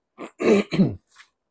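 A person clears their throat with a few short, rough bursts, close and abrupt, ending in a faint trailing breath.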